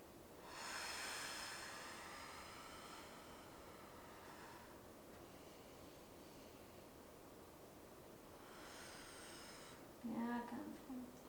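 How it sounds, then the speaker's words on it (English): Deep breathing during a restorative yoga session, with slow, soft airy inhales and exhales, faint and close, over a quiet hiss and a brief louder rustle near the end. "Nice deep breathing."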